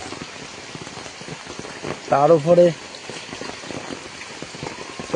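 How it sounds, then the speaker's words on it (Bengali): Heavy rain falls steadily outdoors, a constant wash of drops on surfaces that continues throughout, with a brief burst of speech partway through. "বাইরে তো প্রচন্ড বৃষ্টি পড়ছে এখন"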